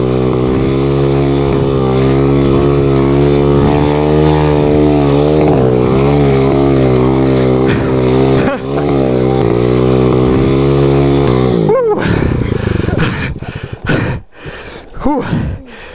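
A pit bike engine revs hard and continuously while being ridden, a loud buzzing drone that rises and falls in pitch before cutting out and sputtering into scattered bursts at the end.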